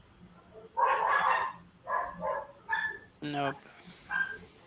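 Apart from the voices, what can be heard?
neighbor's dogs barking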